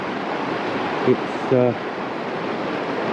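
Knee Brook flows with a steady, broad rushing hiss, heard close and continuous, while a voice briefly cuts in partway through.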